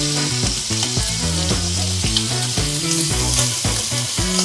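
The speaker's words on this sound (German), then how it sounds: "Und drum brutzeln wir uns den schon mal auf der Pfanne am Herd." Parma ham frying in a little oil in a pan on a stove, a steady close sizzle and crackle with light stirring clatter, no voices, over faint background music.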